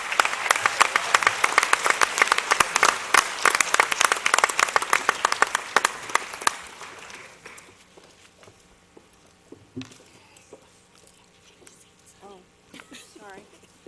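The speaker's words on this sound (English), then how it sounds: "Another round of applause." Dense, loud audience clapping fills a high-school board of education meeting for about six seconds, then trails off into a quieter room with a few scattered claps and faint voices.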